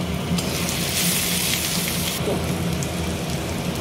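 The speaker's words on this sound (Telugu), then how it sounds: "ఇప్పుడు కొద్దిగా అల్లం వెల్లుల్లి పేస్ట్ యాడ్ చేసుకొని కలుపుకోవాలి." Ginger garlic paste sizzles and fries in a pan while being stirred, a steady dense crackle running throughout at close range with no voices.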